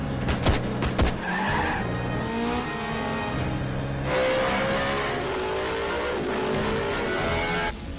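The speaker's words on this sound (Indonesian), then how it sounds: "Malik yang melihat hal itu langsung mengejarnya dengan mobil" A car chase in an Indonesian gangster film, with engines revving and tyres squealing and skidding loudly, plus sharp impact-like bursts at the start, all without speech.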